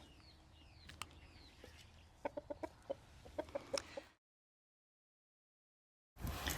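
A rooster clucks in a series of short, sharp calls that grow into a quick burst, close and fairly faint over soft outdoor ambience, before a stretch of silence and a sudden noisy return.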